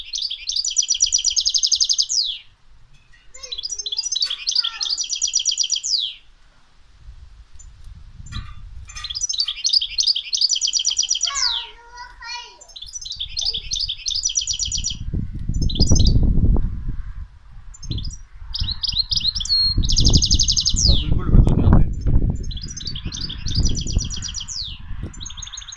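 A caged bulbul sings loud, close bursts of bright chirps and warbling phrases, broken by pauses, with rumbling handling and background noise building beneath later calls.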